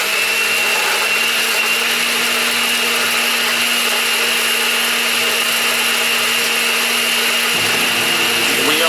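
Steady, loud mechanical whine and hum from a machine grinding up computer hard drive platters, a constant high-pitched drone with a low tonal hum beneath, running without pause and shifting slightly near the end.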